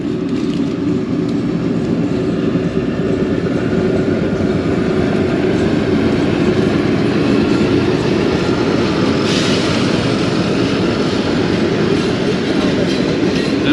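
Jaffar Express passenger train led by diesel locomotive ZCU 26418 near Gujranwala Cantt, a loud, steady rumble of rolling wheels and carriages with faint rhythmic clatter throughout.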